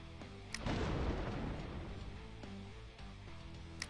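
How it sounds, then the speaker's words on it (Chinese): Explosion sound effect in a mobile visual novel game: a deep rumbling blast swells and slowly fades over steady background music, with no speech. "一阵震耳欲聋的爆炸声伴随着尘土袭向你的耳朵"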